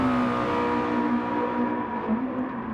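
Race cars in a Gran Turismo 7 race at Laguna Seca, a loud close engine drone holding a steady tone with a small dip in pitch near the end, continuous and without talk.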